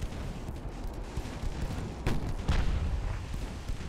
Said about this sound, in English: let's throw you a bit of auto fire. 5-inch guns might be able to get some work done